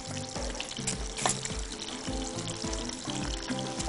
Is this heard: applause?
no